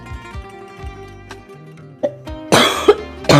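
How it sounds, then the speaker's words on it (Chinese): A person with a persistent, lingering cough bursts into a cluster of harsh, loud coughs near the end, after quieter tonal background sounds. "这咳嗽就不好了，肺子都要给我咳出来了"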